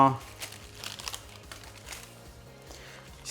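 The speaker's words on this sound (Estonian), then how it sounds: "võtame ümbrits paberi siit ära" Paper wrapper being peeled off a homemade banana cake, close crinkling and soft tearing that crackles in short bursts, with a voice talking over it.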